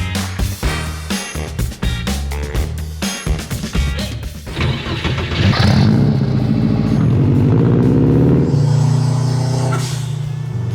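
A loud Subaru WRX EJ20 boxer engine swapped into a 1973 VW Beetle runs with sharp revs and clattering bursts at first, then settles into a steady, heavy rumble close by.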